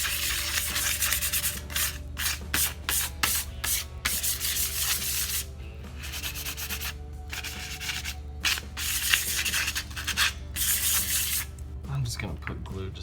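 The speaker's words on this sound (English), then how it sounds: "I'm gonna scuff up the paint on the back here so the glue will hold a little better" Hand scuffing of painted reclaimed shiplap wood, a close scratchy rubbing in quick rhythmic strokes with short pauses between passes, while a person talks over it.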